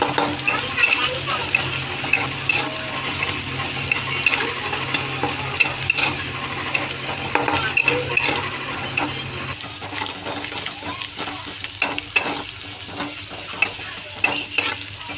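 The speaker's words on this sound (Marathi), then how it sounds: "मग आता आपण लसूण टाकूया चवीनुसार." Garlic sizzles steadily in a pan for veg noodle momos while a utensil stirs and scrapes in repeated irregular strokes, close and continuous, with faint background noise.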